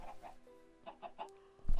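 Chickens cluck in Minecraft, with short, close, bright clucks arriving in an uneven cluster and then a louder burst at the end, with no talk.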